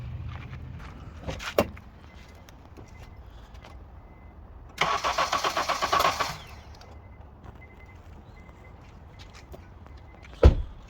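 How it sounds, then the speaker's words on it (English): A Honda CR-V engine cranks in a rapid, even rhythm for about a second and a half but never catches, between a few sharp clicks and clunks. "Now let's start the engine."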